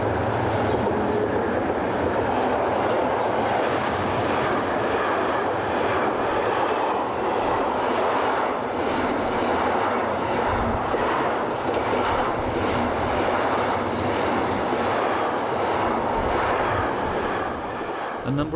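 Freight trains on a European main line near a new tunnel, a loud continuous rumble and wheel clatter rolling past close by for the whole stretch, with rail noise steady throughout.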